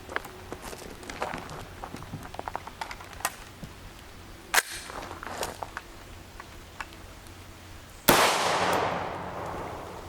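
Sharp single shots from a CMMG MK57 5.7x28mm pistol fired outdoors at a range, a string of irregular cracks of varying loudness with a louder report near the end followed by a decaying echo.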